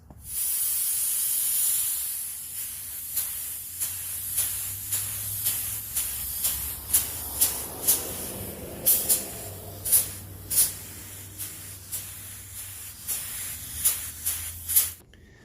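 Spray gun laying a second coat of primer on a repaired Ford Explorer rear bumper, heard as a steady hiss at first, then a string of short repeated bursts with brief gaps.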